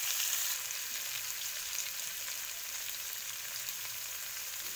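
Food frying in a pan, a steady, close hiss and fine crackle that runs unbroken and slightly louder at the start, with no voices.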